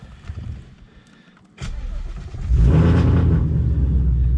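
A Ford Mustang 5.0 with a Whipple supercharger cranks briefly, catches, then roars up into a loud, steady, heavy idle close by, with no one talking.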